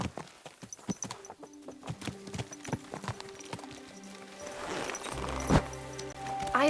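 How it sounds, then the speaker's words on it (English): A horse in the video game Kingdom Come: Deliverance II clip-clops with a steady rhythm of close, distinct hoofbeats, then snorts or whinnies near the end as the sound grows louder, with brief musical tones mixed in. "Easy, good horse."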